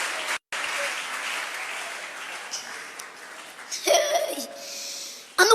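A congregation at a church service breaks into sustained applause, a broad wash of clapping from many hands, with a brief dropout and a single voice rising near the end.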